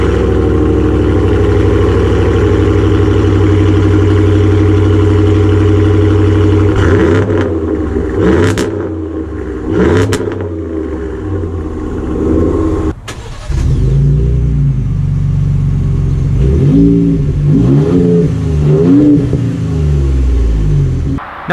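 A pickup truck engine with an aftermarket exhaust idles with a loud, deep exhaust rumble, then blips through several sharp revs, roaring up and dropping back, close by with no talking.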